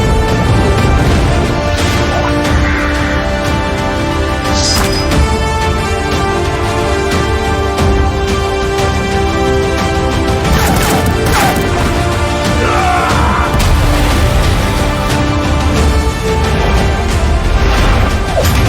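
Loud, dense trailer mix from the Hindi film Shamshera, with sharp whip cracks, train rumble and fire effects layered over booming music and crashing hits, continuous throughout.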